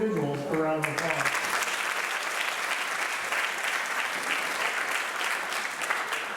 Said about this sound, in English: Please give these individuals a round of applause